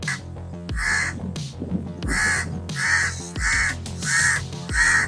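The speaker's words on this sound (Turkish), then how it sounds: "Kargalarsa bunun üstüne çıkarak 140 desibel güce ulaşan bir ses çıkartabiliyorlar." A crow caws loudly and repeatedly, harsh calls coming in steady bursts with short pauses between them, close and clear.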